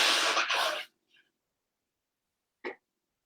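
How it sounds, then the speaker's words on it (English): A single sharp sneeze from a woman during a card reading, a brief close burst followed by a faint breath and a short catch of the throat in near silence. "I'm going to sneeze in a sec"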